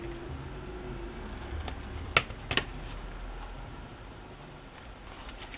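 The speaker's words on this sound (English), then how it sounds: "I'll just trim that off a little bit." Scissors trim a strip of paper for a decorated journal page: two quick, close snips in the middle of an otherwise quiet room.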